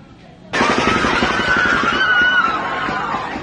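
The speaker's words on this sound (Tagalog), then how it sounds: "maririnig po yung alingaw-ngaw ng putok ng baril at yung sigawan ng mga botante" Gunfire erupts at a crowded elementary school polling place during the 2025 election in Bangued, Abra, caught on a cellphone: an abrupt loud burst of rapid shots amid frantic shouting and screaming from voters, continuing in a dense chaotic din.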